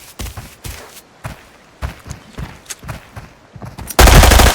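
Rapid rifle shots crack in quick bursts in the video game Arena Breakout, repeated several times, ending in a louder sustained blast of noise at the close.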